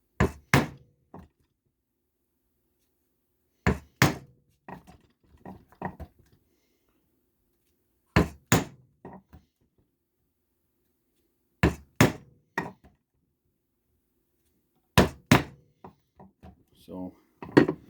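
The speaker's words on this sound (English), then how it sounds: "I would keep chiseling a line all the way around here, around there, and do it around and around there" Steel chisel struck with a mallet along a groove in holster leather, sounding as sharp paired knocks in five clustered bursts spaced a few seconds apart, with lighter taps between them and silence in the gaps.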